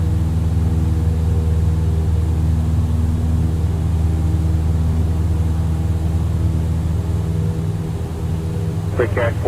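An aircraft engine in a home flight simulator game hums at high RPM as a steady, loud, tonal drone throughout, with a brief radio-like voice burst near the end.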